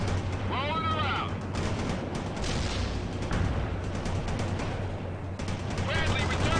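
Bradley vehicle gunfire in World in Conflict, rapid bursts of distant shots and cannon fire rattling over continuous battlefield rumble, with brief radio-style chirps mixed in.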